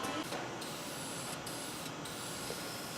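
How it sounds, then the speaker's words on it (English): A spray paint can hisses steadily as gray primer is sprayed along an edge on a dirty shop floor, a continuous close spray with brief dips where the nozzle pauses. "I'm going to use spray paint to mark this edge"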